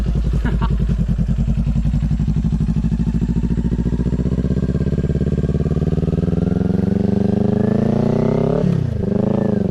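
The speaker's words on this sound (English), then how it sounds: "Give it a rev. Give it a rev." A motorcycle engine revs continuously and loudly up close, its pitch climbing steadily over several seconds before a sharp blip and drop near the end, with a voice briefly audible underneath.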